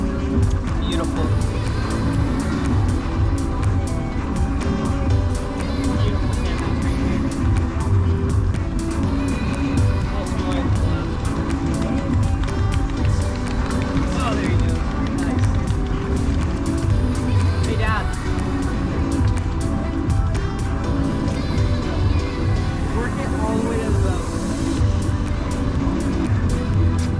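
A boat motor runs loud and steady throughout, a constant droning rumble, while fishing off the Long Beach break wall. Voices talk over it and music plays.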